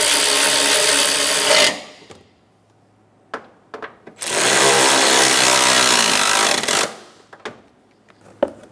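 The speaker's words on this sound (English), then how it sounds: "Snug the bolts down." A power tool runs in two loud sustained bursts, tightening the airbox bolts on a 2003-2007 Honda Accord 3.0L V6, each a steady whirring drone of a few seconds separated by quiet gaps with small clicks and knocks.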